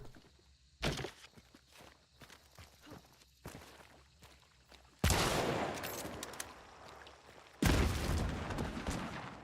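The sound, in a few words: small powder keg explosion in the video game Skate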